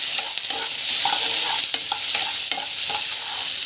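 Onions and spices sauté in a pan for a mutton gravy, a loud, close, continuous sizzle broken by rhythmic spatula scrapes and taps.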